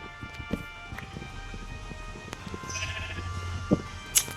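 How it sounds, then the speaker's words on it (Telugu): Goats bleat in Minecraft survival gameplay, with a couple of short, sharp calls near the end over soft in-game background noise. "ఈ మేకలు బాగా అరుస్తున్నాయి"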